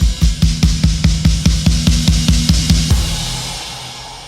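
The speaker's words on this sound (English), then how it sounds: "That impact came straight out of Logic's own loops." A stock loop impact from Logic Pro X builds toward the last chorus of a worship song, with rapid pounding drum hits about every quarter second that stop near three seconds and leave a fading low tail. Loud and close, no voices.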